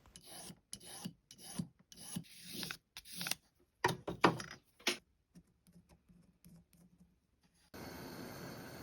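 A hand file rasps against the metal edge of a bezel for a sea glass pendant in short, quiet, irregular strokes, close up, followed by a soft steady hiss near the end.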